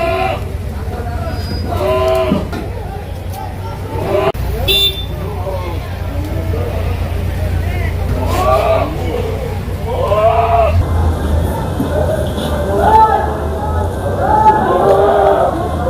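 Goats bleat repeatedly at a crowded goat market, several wavering calls at intervals among vehicle horns and general crowd noise, with people talking in the background.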